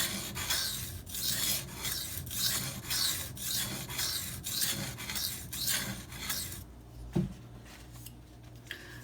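A Maxamet steel knife blade is drawn over Venev diamond sharpening stones in repeated rhythmic rasping strokes, close and steady, ending with a short metallic clink.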